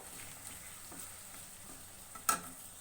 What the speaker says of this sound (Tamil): இப்போ நல்லா தொக்கு மாதிரி நல்லா வதங்கட்டும்.